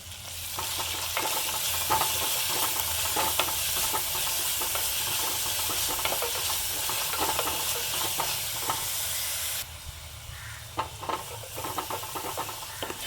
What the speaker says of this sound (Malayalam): ഇനി ഇതിലേക്ക് നമ്മൾ ചതക്കി വെച്ചിട്ടുള്ള ചെറിയ ഉള്ളി, വെളുത്തുള്ളി, ഇഞ്ചി ഇത്രയും ചേരുവ ചേർത്ത് നന്നായിട്ട് തന്നെ വഴറ്റിയെടുക്കുക.